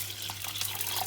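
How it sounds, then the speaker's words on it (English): Water poured into a cooking pot for bitter leaf soup, a steady continuous splashing stream that runs the whole short moment at a moderate level, with no talking. "I'm going to add water to the pot"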